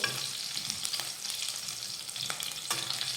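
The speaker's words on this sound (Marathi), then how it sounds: "आता मिरची थोडीशी अशी तेलावर परतून घेतली" Green chilies sizzle in hot oil in a pan, a close, steady frying hiss broken by a few scrapes of a stirring spoon, with no talking.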